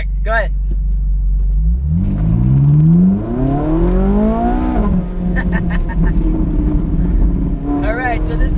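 A red Ferrari on a race track accelerates hard, its engine note climbing loudly through a long rising rev before a shift and steady roar, while someone talks over it.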